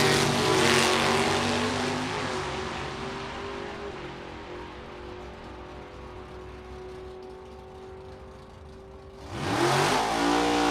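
A rear-engine dragster and a Z28 Chevrolet Camaro drag racing at a test-and-tune session, loud engine roar at a distance that fades and drones steadily, then a second engine surges loudly near the end.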